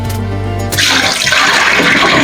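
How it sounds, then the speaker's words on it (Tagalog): Water pouring out of a bowl where tuna had been soaking, a sudden loud gushing splash after a low hum, continuing as a steady rushing drain. "Tanggalin ko na yung tubig kasi wala nang yelo."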